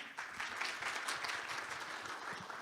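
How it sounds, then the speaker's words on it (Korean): Audience applause at a Korean public-private R&D innovation forum, a steady dense wash of clapping from a crowd, moderately faint and continuous throughout with no talk. "여러분 박수로 맞아주시기 바랍니다."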